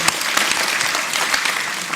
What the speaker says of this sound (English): Let's give Ben a round of applause